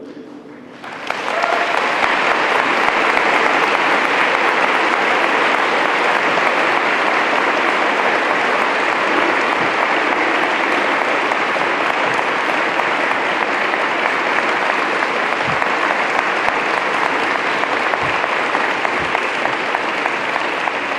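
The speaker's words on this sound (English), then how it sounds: "So I'll give you a chance to clap one more time and stand up" Audience applause fills a conference plenary hall at an award presentation, starting abruptly and holding as a loud, dense, sustained clapping from a large crowd for about twenty seconds.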